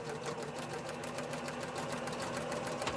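A sewing machine stitches steadily over cording along the straight edge of a fabric face mask, a continuous close mechanical whir with fast even needle clatter and no talking.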